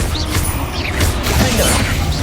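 Confringo blasting spell cast in Hogwarts Legacy, a run of loud crackling magical blasts and crashes with heavy low rumble, dense game combat effects filling the whole stretch.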